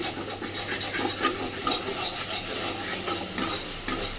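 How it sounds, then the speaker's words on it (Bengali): Pointed gourd stuffing stirred and fried in a pan, a continuous sizzle with repeated scraping strokes of a spatula against the metal. "তো খুব ভালোভাবে এবার পুরটাকে নেড়ে চেড়ে ভাজতে থাকবো"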